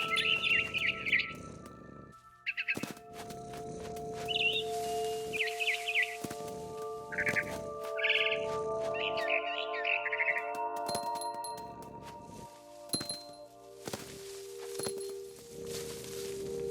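A barn swallow in the video game What Remains of Edith Finch chirps in repeated short bursts of twittering calls, some close and loud, over a sustained ambient tone and occasional soft thuds.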